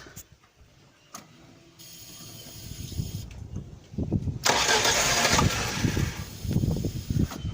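A Lada Samara 1.5i engine is cranked and catches after an ignition coil replacement: soft clicks and mechanical rattles first, then a loud surge as it fires and settles into an uneven, revving idle.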